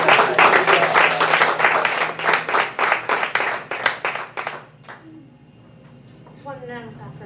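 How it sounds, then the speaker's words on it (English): A short burst of brisk applause from a small group, clearly separate claps that stop about two thirds through, followed by quiet room sound and then a voice speaking. "One round of applause for evaluations."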